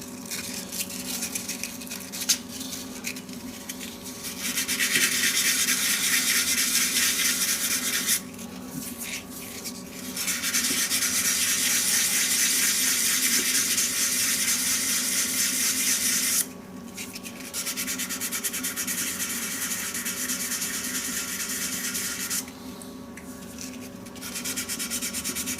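Abrasive grit sands a turned shaving brush handle spinning on a lathe, a continuous hissing rub over a steady motor hum, broken into several bursts by short pauses.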